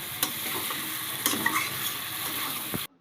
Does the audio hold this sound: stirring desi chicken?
yes